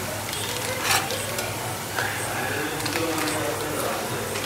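Onions frying in a pan with ginger, garlic and garam masala make a steady close sizzle with occasional stirring scrapes, while people talk over it.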